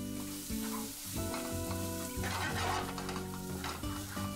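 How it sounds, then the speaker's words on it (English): Spiced masala for samosa filling fries in a pan with a continuous close sizzle and occasional stirring scrapes, while tonal background music plays along. "then fry this for about 2 to 3 minutes."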